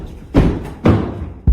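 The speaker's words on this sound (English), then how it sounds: "3 loud footsteps suddenly came from the floor above" Three heavy footsteps thud on the floor overhead, loud and booming with a short echoing decay, the first two spaced evenly and the third arriving a little quicker.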